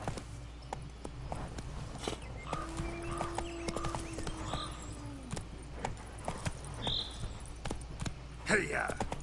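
Roach, Geralt's horse in the video game The Witcher 3, trots along with a steady, fairly close clip-clop of hooves, the beats repeating evenly over soft in-game ambience and faint tonal sounds.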